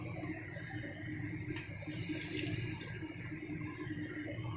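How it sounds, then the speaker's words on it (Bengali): Water from a rinsed mixer jar poured into a pan of spicy potato gravy for dry aloo dum, giving a steady, moderately loud splashing pour that runs for several seconds without a break. "এখন এখানে আমি একটু জল দিয়ে দেবো সামান্য"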